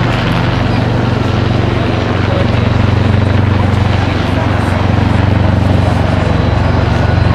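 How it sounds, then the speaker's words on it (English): MV-22B Osprey tiltrotor at the Farnborough Airshow 2012 flying in helicopter mode, a loud, steady, close rotor drone with a constant low throb. "Transitioning back into the rotary mode, the helicopter mode."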